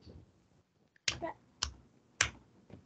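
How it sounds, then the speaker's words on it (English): Three sharp hand claps ring out one after another at a steady pace during an online ESL class, each a crisp, fairly quiet snap with near-silence between. "And also three claps. Do you still remember our clap? Clap."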